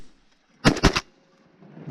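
Shotgun blasts fired at a duck during a December duck hunt in Arizona, three quick loud reports in a tight burst, close and sharp, with quiet outdoor ambience around them.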